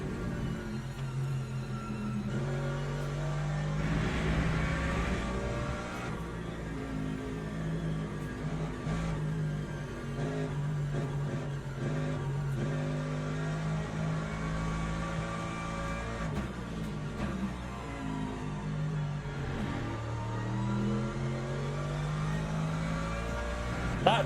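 LMGT3 race cars at Fuji in the sim racing game Le Mans Ultimate produce a continuous loud engine drone whose pitch climbs and drops repeatedly through gear changes and corners, with no talk.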